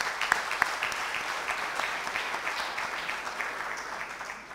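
An audience at a Business Daily Africa renewable energy event in Kenya applauds Strathmore. The clapping is steady and moderately distant, with a few sharper claps early on, and it gently tapers over several seconds.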